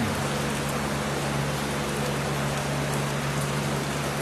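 Heavy rain pours down steadily in a dense, hissing roar that stays constant throughout, with a low hum underneath and no voices.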